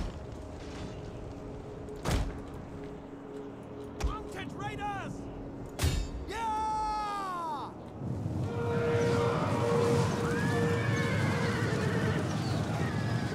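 Cavalry horses charge in a Total War: Attila battle, with several loud whinnies and neighs ringing out over a busy rumble of hooves and battlefield noise that thickens toward the end.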